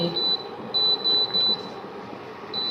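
Kitchen timer being set for seven minutes during dumpling cooking, giving a series of short, sharp, high-pitched electronic beeps in an uneven pattern, close by in a quiet kitchen.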